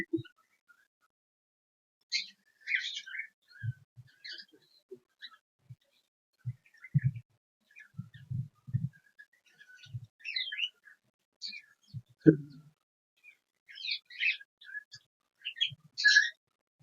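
Cockatiels in breeding boxes give scattered short chirps and squeaky calls, close by, with a few low knocks and shuffles from inside the boxes between the calls.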